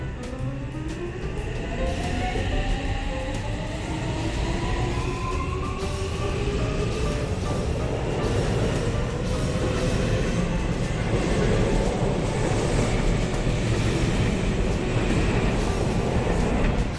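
A Tokyu Toyoko Line local train rolls by with a steady, heavy rumble and a rising electric motor whine, continuous throughout and fairly loud.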